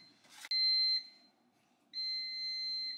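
An air fryer gives two long, shrill electronic beeps separated by a short pause, after a brief rustle, with no talking.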